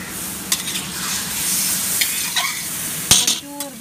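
Chicken ghee roast frying in a pan while being stirred, a steady close sizzle with scraping spoon strokes and a sharp metallic clink near the end.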